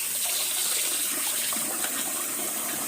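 Warm water pours steadily from a bathtub tap for a bath bomb, a continuous broadband splash filling the space at a fairly close, even level with no talking.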